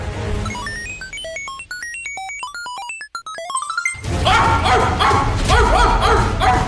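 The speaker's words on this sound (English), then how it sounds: "A dog? Why would you be a dog?" A dog barks and yelps in rough, noisy bursts that burst in abruptly after a bright synth melody, loud and close for the last few seconds of a comedy sketch.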